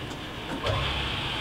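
A Hardinge super precision tool room lathe runs in low range and winds up toward 1,000 RPM, giving a steady, soft mechanical whir and hum with no talking.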